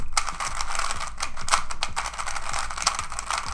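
A freshly lubed Cubicle Mystic speed cube being turned quickly by hand: rapid, close, clacky clicks in quick bursts, much like fast typing, with no one talking.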